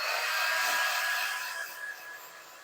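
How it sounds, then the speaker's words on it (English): A handheld hair dryer blows steadily on a painted craft piece for a Christmas tiered tray, a loud, close, continuous whoosh with a faint whine that eases slightly toward the end. "My dryer."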